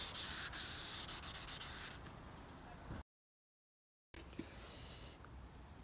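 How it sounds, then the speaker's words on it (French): Wet sanding of filler putty on a Mazda body part, a close rhythmic scraping rub that starts loud in quick strokes, then softens to a quieter steady scrub after a brief silent gap. "il faut poncer à l'eau pendant des heures"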